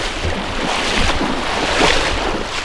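River water rushes at the meeting point of two cold rivers near the source of the Guadiaro, a steady close broadband roar with some wind buffeting the microphone.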